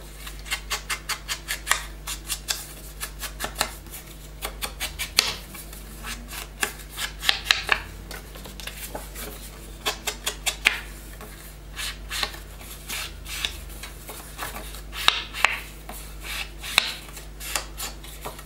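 An ink pad dabs and rubs around the edges of paper for a recipe journal, giving a steady run of quick, close scratchy taps in bursts, with a low hum underneath and no one talking.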